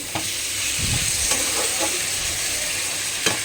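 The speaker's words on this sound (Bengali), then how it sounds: "তা ভালো করে কষাবো তারপরে গিয়ে অ্যাড করব এইভাবে কষানো হবে বেশ কিছুক্ষণ কষানো হবে" Spice paste sizzling and frying in a hot pan, with scraping stir strokes and occasional soft clinks at an unhurried pace, close and alone without talk.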